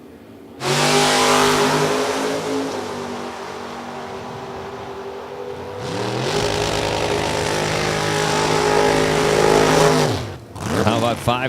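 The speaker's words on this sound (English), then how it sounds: "The Badman Motors powered 1992 Camaro coming up in the right lane" 1992 Camaro door car launching in a drag racing time trial: a loud, close engine roar that rises through gears, holds at a high pitch, then cuts off abruptly near the end, with an announcer talking over it.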